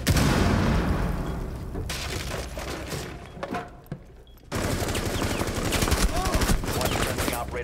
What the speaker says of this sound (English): Exactly where I was shooting. I shot him, hit him twice.